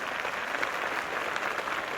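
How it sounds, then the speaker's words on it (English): Stadium crowd in a one-day cricket match video game, a steady broad roar and buzz of spectators from the stands, continuous and fairly loud with no talk over it. "There's a buzz, a real buzz coming from the stands."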